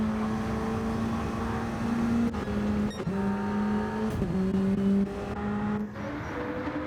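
A BAC Mono race car at Autopolis drones steadily in an onboard view as the driver works the throttle, with small shifts in engine pitch and brief dips.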